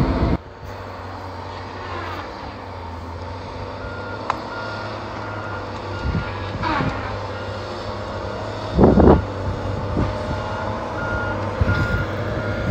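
A Tigercat 630 forestry skidder works nearby with a steady diesel engine drone, reversing beeps and occasional clanks and a louder thump near the end, with no talk.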